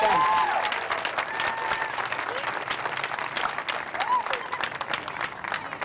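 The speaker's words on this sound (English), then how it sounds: "Let's give him a round of applause for everything he does for North End." A crowd applauds Boston Mayor Marty Walsh at a school ribbon cutting and community celebration, steady clapping filling the space with a few faint voices mixed in.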